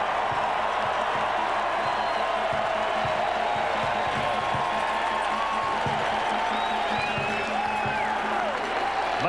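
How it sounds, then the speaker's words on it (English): A college football crowd roars at Carter-Finley Stadium during the 1991 NC State vs UNC game: a dense, sustained cheer with scattered whistles that holds steady throughout. "listen to the crowd at Carter-Finley."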